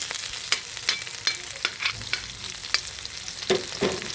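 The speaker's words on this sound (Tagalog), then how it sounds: "Ilagay natin sibuyas, bawang at saka sili para isa natin ng konti para medyo anghang." Onion, garlic and chili sautéing in a pan before eggplant goes in, a continuous sizzle broken by a series of distinct stirring scrapes and clicks.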